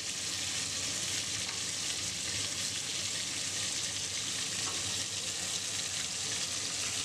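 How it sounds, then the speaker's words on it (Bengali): Kochu data (taro stems) fry in a pan with grated coconut, making a soft, continuous sizzle with faint crackles. The sound stays even throughout and no one speaks. "ভাজা ভাজা হয়ে যাওয়ার পরে আমরা এতে অ্যাড করব নারকেল কোড়া।"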